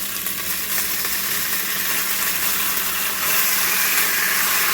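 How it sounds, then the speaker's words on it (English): Pasta with red sauce cooks in a pan on a low flame, producing a steady broadband sizzle and bubbling hiss that grows slightly louder toward the end, close and with no talk. "And cook it for 1 more minute in the pan on a low flame."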